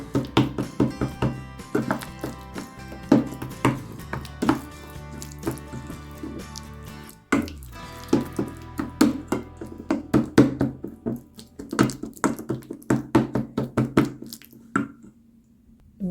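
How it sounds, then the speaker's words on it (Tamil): Boiled ash plantain is mashed by hand for a Jaffna-style sambal, giving a steady run of soft, close, wet knocks and taps with a brief pause midway before the mashing thins out. "தோலை கொஞ்சம் நல்லா மசிச்சு விட்டீங்கன்னா சரி"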